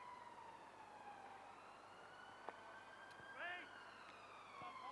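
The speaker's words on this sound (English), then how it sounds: "Another, I expect, ambulance sounds on the road outside" An ambulance siren on a road beside a cricket ground wails in long, slowly gliding tones throughout, distant and faint beneath a steady background hiss, with a brief sharp knock partway through.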